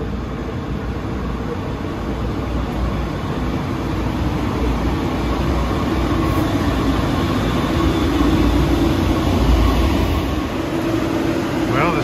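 A San Francisco Muni Metro LRV2 light rail car, aging and bound for retirement, rumbles along through the Twin Peaks Tunnel with a loud, steady roar of wheels and motors and a constant high whine.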